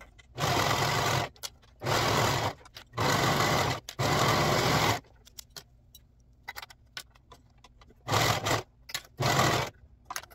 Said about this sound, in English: you can use a serger or sewing machine for this project